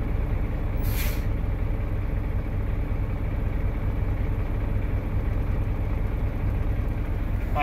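A truck's air brake gives a short, sharp hiss as the service brake is pumped during a pre-trip air brake test, standing out above a steady low idling engine rumble.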